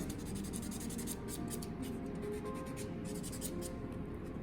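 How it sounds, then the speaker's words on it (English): A nail buffer rubbing over a fingernail plate during a soft gel polish prep, giving a steady, quiet, continuous scratchy rubbing in rhythmic back-and-forth strokes with no talking. "The purpose of the buffing is to clean the nail plate, make it smooth, and take all the oil off."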